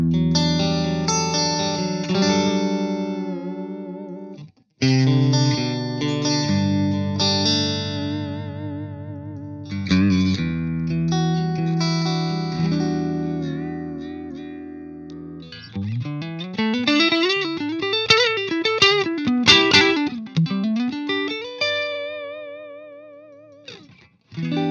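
Guitar played through the clean channel of a Marshall Silver Jubilee amplifier, with sustained chords and melodic lines carrying chorus-like shimmer and reverb, alone at steady volume with a brief gap near five seconds.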